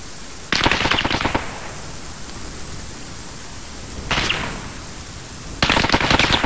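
Machine gun covering fire in the video game Arma 3 comes in three loud bursts of rapid automatic shots, separated by stretches of hissing background noise.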